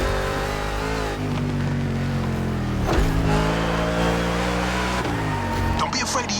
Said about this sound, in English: Real American monster trucks are used in 2 types types of competitions: freestyle stunt and racing.